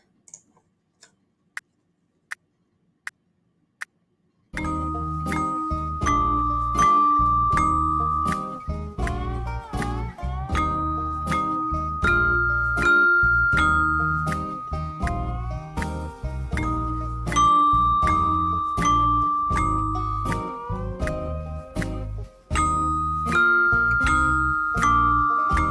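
A bell melody with accompaniment begins after a few sparse, isolated bell strikes, then plays as a full, steady sequence of struck bell notes over sustained chordal backing, loud and even throughout.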